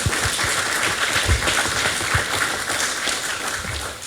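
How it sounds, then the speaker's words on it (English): A community resource meeting audience in Brandon claps steadily throughout, a dense, even wash of applause with no talking over it before it tapers slightly at the close. "Yeah, round of applause."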